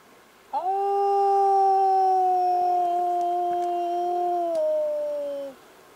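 A wolf in the Alaskan wilderness lets out a single long, steady howl that holds its pitch for several seconds and then fades, clear and fairly close with no voices.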